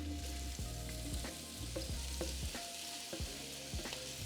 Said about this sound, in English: start frying up my beef sausage